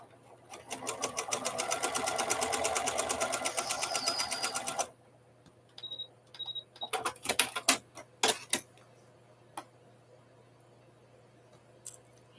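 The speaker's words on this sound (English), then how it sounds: "I have my machine set up, and I'm going to sew those on real quickly." Sewing machine stitching quilt squares, a rapid rhythmic mechanical whir for about five seconds, then stops, followed by scattered clicks, handling sounds and short bursts near and close.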